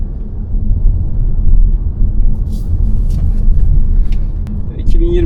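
A Cupra Formentor Supreme on its first drive, its steady low road and engine rumble filling the cabin throughout, with a person talking over it.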